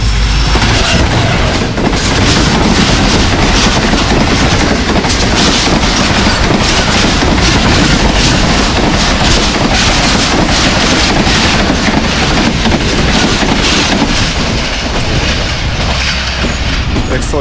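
The Pak Business Express, 34 Down, thunders through Jhimpir railway station at speed. A loud, continuous roar of the passing train lasts throughout, mixed with heavy wind buffeting on the microphone.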